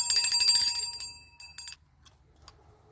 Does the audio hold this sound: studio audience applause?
no